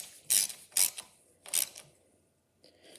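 Hand ratchet clicking on bolts of a 4L60E automatic transmission, worked without the full handle: three short bursts of sharp ratcheting clicks, close and isolated, with a faint tap near the end.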